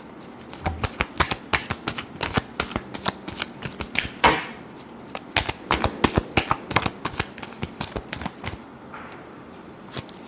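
Tarot cards being shuffled by hand during a reading, a run of crisp, fast riffling and tapping bursts in uneven rhythm, close and fairly loud, with no talking.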